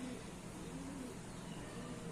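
A moulting pigeon coos softly in low, rolling murmurs over a steady background hiss, faint and continuous with a few brief chirps.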